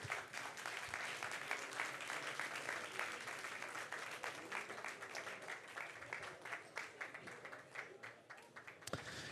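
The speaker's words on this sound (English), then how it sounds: "You don't get the same applause as Albert" Audience applause welcoming a film director to the stage for a post-screening Q&A: steady, dense clapping from a sizable crowd that sustains for the whole stretch, with a few sharp individual claps near the end.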